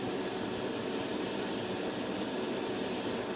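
A continuous hiss of spray paint from an aerosol can painting a Revell Colonial Viper Mk. II model canopy, steady and close, ending abruptly near the close.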